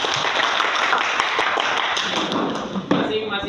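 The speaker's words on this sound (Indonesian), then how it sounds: "Tepuk tangan untuk kita semua." A class applauds together, dense fast hand clapping that fills the room steadily before fading at the end, with voices talking underneath.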